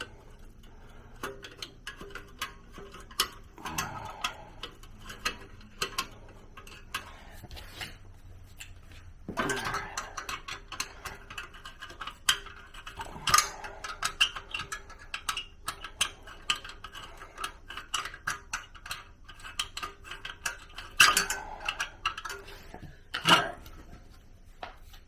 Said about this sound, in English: Once you get it going with a screwdriver, you can stick a little socket on this thing and continue with that.